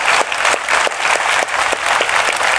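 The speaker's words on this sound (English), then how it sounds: "Let's give her a big round of applause" Applause from the audience at a DEFCON 20 conference talk, with close, loud clapping in a steady rhythm that carries on for a few seconds.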